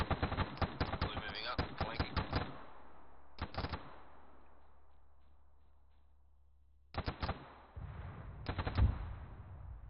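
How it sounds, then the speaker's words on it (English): Rifle and machine-gun fire in Arma 3 during a mission with Australian Armed Forces: sharp bursts of rapid shots in clusters, separated by quiet gaps, with a final rumbling stretch of fire near the end. "Shots coming in from the east"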